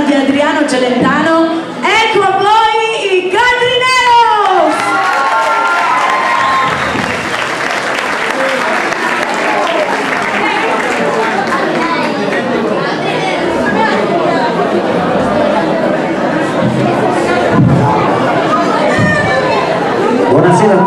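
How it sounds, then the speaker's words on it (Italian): A live concert audience applauds and cheers, a dense wash of clapping with chatter throughout, and a voice rising over it near the start. "Buonasera a tutti, grazie per l'applauso."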